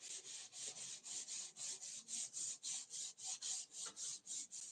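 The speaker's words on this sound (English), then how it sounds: "I'm sanding this down to 400 grit." Rhythmic back-and-forth strokes of fine 400-grit sandpaper rubbing on a walnut and cherry wood box, about three per second, soft and close with no voices.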